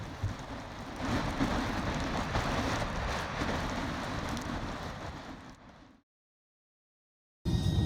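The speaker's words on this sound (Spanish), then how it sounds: "According to the forecast, the rain isn't going anywhere today." Steady heavy rain falling outdoors in East Iceland, a dense close patter for about six seconds that fades, then cuts to silence before resuming abruptly.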